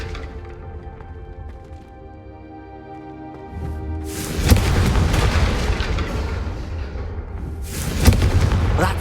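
Confringo fire spell from Hogwarts Legacy blasting candelabras, heard as a low rumbling whoosh that builds into two loud, booming explosive bursts, the second a sharp crack near the end, over a steady game ambience.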